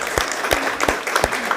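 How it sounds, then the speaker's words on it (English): A small round of applause at a city council meeting, sparse separate claps in an uneven rhythm, close and fairly loud in a quiet chamber. "So let's first give them a round of applause,"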